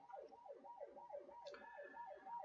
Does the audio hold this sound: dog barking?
no